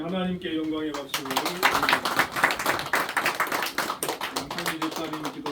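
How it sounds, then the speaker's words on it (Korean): A church congregation breaks into applause during a Sunday morning worship service, dense clapping following a brief sung or spoken phrase. "우리 하나님께 영광의 박수를"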